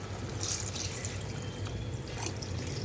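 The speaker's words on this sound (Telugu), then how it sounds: "వాటర్ వేసుకుంటున్నాను" Water pours steadily into a cooking pot of pappu charu, a soft continuous splashing and trickling that stays fairly quiet throughout, with no talking.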